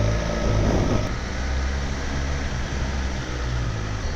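A BMW S1000RR or Ducati Panigale V4 S superbike on a stock exhaust idles at around 2000 RPM after a cold start, giving a steady, fairly loud engine drone with no speech over it.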